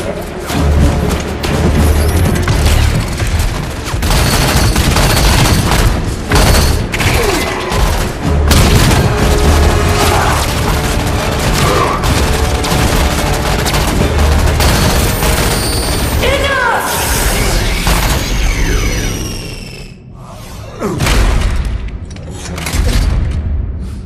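Loud, continuous gunfire and heavy booming explosions from a Halo 5 video game cutscene, with dense bursts of shots and blasts filling the scene and a brief lull near the end; a voice speaks over the battle.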